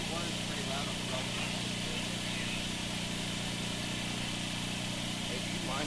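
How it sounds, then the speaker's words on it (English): Portable generator engine running steadily near a rugby championship field, a constant loud drone with people talking faintly underneath. "do you mind if we just turn the generator so the exhaust points the other direction?"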